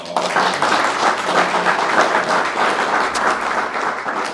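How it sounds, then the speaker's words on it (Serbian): A dense, even wave of audience applause, loud and sustained from start to finish, many hands clapping together without a break. "pa onda jedan aplauz za njega"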